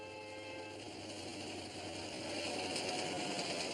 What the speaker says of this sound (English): With a camera crew and a diesel-powered train.